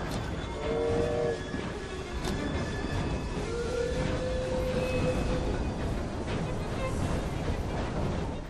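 A train rolls along in Assassin's Creed Syndicate, a loud, continuous rumble with a brief horn or whistle tone near the start and another around the middle, steady throughout without speech.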